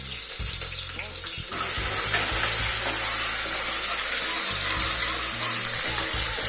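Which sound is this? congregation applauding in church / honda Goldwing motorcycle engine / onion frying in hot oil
onion frying in hot oil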